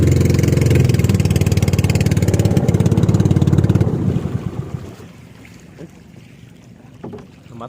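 A small fishing boat's engine runs loud and steady up close for about four seconds, then cuts out and dies, leaving only quiet wind and water afterward.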